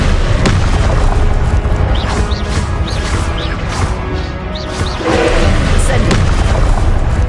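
Confringo spell blasts in a Harry Potter video game rumble as heavy, continuous booms and crashes, loud and dense throughout, with layered impacts and debris.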